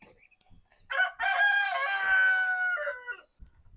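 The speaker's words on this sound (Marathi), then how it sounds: "त्यांनी इथं छोटा असं तार कंपाऊंड करून कोंबडे पण पाळले आहेत" A single loud, clear rooster crow lasting a couple of seconds, close by on a mango farm, with quiet surroundings before and after.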